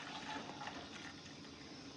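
Water sloshes and runs while a vessel gets rinsed, a soft continuous gush of splashing liquid at close range with no voices.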